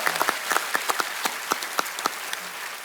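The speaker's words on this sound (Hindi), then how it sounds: "एक बार जोरदार तालियां हो जाए।" Studio audience applause on a televised Indian comedy show: distinct, crisp claps stand out over a softer bed of clapping, keeping an uneven but lively rhythm for about three seconds.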